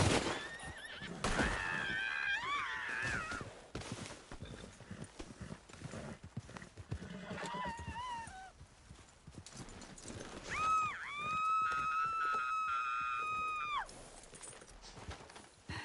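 A horse in a video game whinnies loudly near the start and again later, with clopping hooves and scattered clatter between, close and fairly loud.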